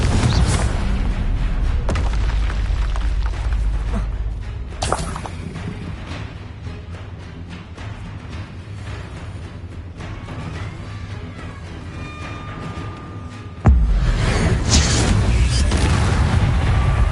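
Explosive Confringo spell blasts from Hogwarts Legacy boom out in deep, heavy bursts over a rumbling game soundscape, with one strong blast near the start and another sharp, loud one late in the clip.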